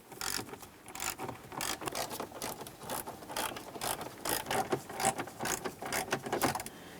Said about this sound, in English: you have three 7mm headed bolts to remove.